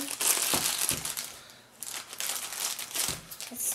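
A toy blind bag package is cut open in a few short crinkling, crunching bursts of plastic foil, close up and fairly quiet, with pauses between the crackles.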